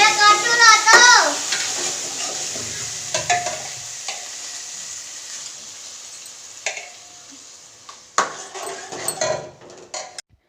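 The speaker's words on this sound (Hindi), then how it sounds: "दाल में तड़का लगा दिया है" Tadka tempering sizzles and crackles in a pan of dal, a steady frying hiss under a child's chatter at the start, with brief clinks of a spoon or pot later.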